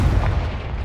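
A Confringo blast-curse explosion in the video game Hogwarts Legacy, a loud, dense, booming burst filling the whole short moment.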